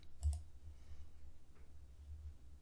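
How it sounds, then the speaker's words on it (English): A computer mouse clicks once, a sharp close tap near the start, followed by faint room hiss and a soft low hum. "So click next down here."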